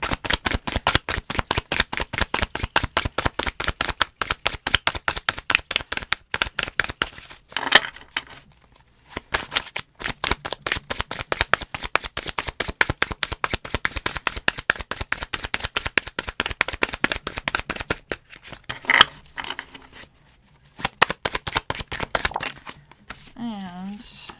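Tarot cards shuffled in long rapid runs, a dense close riffling patter that pauses briefly a few times and resumes, with a voice speaking faintly beneath.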